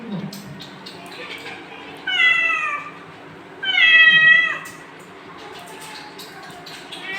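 A kitten kept indoors by rain meows twice, clear, rising cries a second or so apart, each close and fairly loud against a quiet room with a soft voice murmuring in the background.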